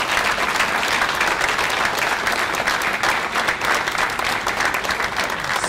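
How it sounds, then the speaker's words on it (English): A close, loud, sustained round of applause from a crowd for the candidates at a Thunder Bay election forum, dense clapping holding evenly throughout. "I think everyone up here deserves a round of applause"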